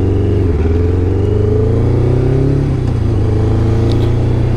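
A Kawasaki ZX-11 motorcycle accelerating through town, its engine loud and close with a steady roar that rises and shifts pitch as the bike pulls hard through the gears.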